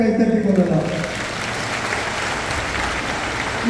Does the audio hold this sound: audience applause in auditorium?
yes